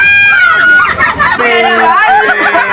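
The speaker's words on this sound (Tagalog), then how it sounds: "Sobrang saya habang naririnig ko yung sigawan nilang punong-puno ng kasiyahan" Excited shouting and cheering of people on a boat ride near Station 2 in Boracay, several voices yelling at once, close and loud in a short burst.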